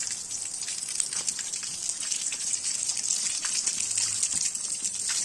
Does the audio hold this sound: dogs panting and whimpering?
no